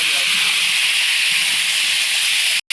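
Papaya and potato pieces frying in hot oil with ginger paste and whole spices, a steady loud sizzling hiss that runs unbroken before a brief cutoff near the end.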